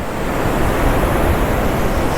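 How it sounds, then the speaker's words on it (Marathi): Arabian Sea surf breaking on the shore near Dapoli during a monsoon rising tide, a steady, loud wash of foaming waves with constant wind-blown roar throughout and no talk. "पाठीमागे लाटा बघताय किती मस्त येत आहेत"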